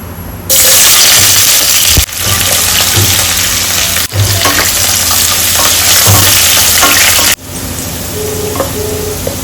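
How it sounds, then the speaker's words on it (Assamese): Onions frying and caramelizing in mustard oil for chicken biryani: a loud, close, continuous sizzle with occasional stirring clatter, broken by a few abrupt cuts. "মিঠাতেল ইউজ কৰিছোঁ ফাৰ্ষ্টতে অলপমান পিঁয়াজ কেৰেমেলাইজ কৰি লওঁ"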